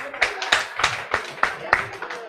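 Audience members at a talk on relationships clap together in a slow, regular beat, about eight sharp claps in a row, with voices speaking over them.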